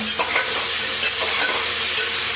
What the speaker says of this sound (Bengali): তেলটা গরম হয়ে গেছে, আমি চালটা দিয়ে দেব